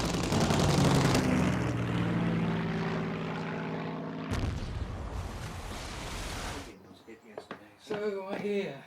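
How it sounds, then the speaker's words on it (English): Spitfire and Hurricane fighter aircraft dogfighting over the coast during the Battle of Britain: loud, droning propeller engines roar and shift in pitch, then cut off abruptly, followed by a brief stretch of voices. "There is fierce dogfighting over the coast, from Portsmouth to Dover."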